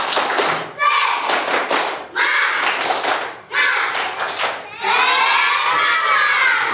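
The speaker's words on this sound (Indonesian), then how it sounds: "Kita tunjukkan semangat kita dengan bertepuk semangat" Schoolchildren standing in a classroom perform the tepuk semangat clapping chant, loud shouted group chanting in bursts with rhythmic claps and thumps between phrases, ending in a sustained cheer.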